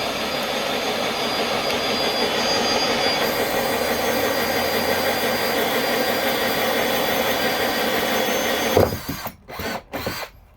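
A drill bores a parking sensor hole through a Ford Fiesta MK7 plastic bumper, a loud, steady high-pitched whine close up for about nine seconds before it cuts out in short stuttering bursts.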